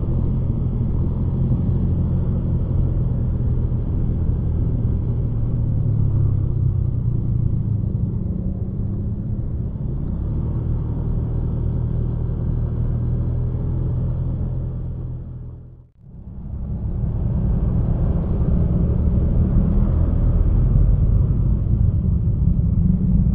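Heavy road traffic in a jam, with a continuous low rumble of idling and crawling car engines close by, steady throughout apart from one brief dip in loudness partway through.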